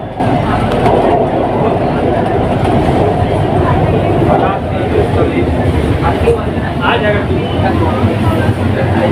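A Kolkata metro train runs through the underwater tunnel beneath the Ganga river between Esplanade and Howrah Maidan, a loud continuous rumble and rattle of the carriage with faint rhythmic clatter and some background voices.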